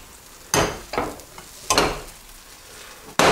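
A spinach omelette cooks in a pan, heard as a quiet sizzle under a few sharp scraping strokes of a spatula, close and spaced irregularly, with no voice.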